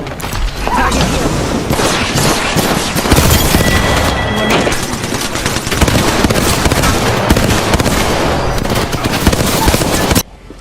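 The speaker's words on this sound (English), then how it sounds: "Throwing grenade." A grenade blast in the Apex Legends battle royale shooter, buried in a dense, continuous barrage of gunfire and mechanical game effects that runs loud for about ten seconds before cutting off.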